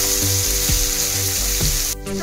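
Sliced onions with a pinch of turmeric frying in a pan for onion kachori, a loud continuous sizzle close by with a few low thumps of stirring, cutting off briefly near the end.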